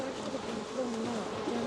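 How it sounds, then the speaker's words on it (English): A dense, steady buzz of many honey bees as a nuc box of bees is dumped into an old hive, the drone constant and close throughout with no talking. "Grab another box of bees. You can dump those in here if you want."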